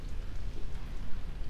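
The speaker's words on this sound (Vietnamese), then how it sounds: "Hôm nay trời đang mưa." Steady rain falls as a dense, continuous hiss with a low rumbling undertone, even and unbroken throughout.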